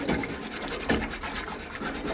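Sandpaper rubs back and forth against rusty metal from an old 486 computer in a steady, rapid scraping rhythm, close and continuous, with no voices.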